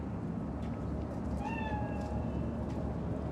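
A cat in the video game Cyberpunk 2077 gives a single drawn-out meow that rises and falls over a dense, steady city ambience, moderately near and without talk.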